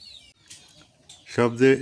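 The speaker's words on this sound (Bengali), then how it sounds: "এই যে আমাদের গ্রামের সকাল, মুরগি থাকবেই।" Chickens cluck on a village morning, the calls growing louder and nearer toward the end after a quieter stretch of faint bird chirps and soft background noise.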